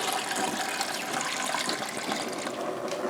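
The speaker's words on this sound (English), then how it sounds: "You have to put water in here." Water pouring into a pressure canner, a continuous splashing gush for a few seconds, close and fairly loud with no talking.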